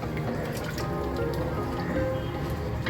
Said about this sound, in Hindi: अब हम यहाँ पे जो है पानी ऐड करते हैं। पानी में यहाँ 2 गिलास के बराबर ऐड कर रही हूँ